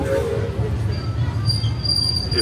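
A Disneyland Railroad train at New Orleans Square station slows toward a stop, a close low rumble of rolling wheels with a thin high squeal held over it.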